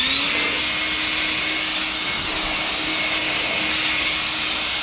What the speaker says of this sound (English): Now I got a small blower.